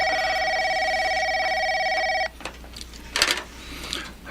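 A telephone ringing indoors, a loud trilling electronic ring repeating for about two seconds before cutting off, followed by faint handling clatter and movement.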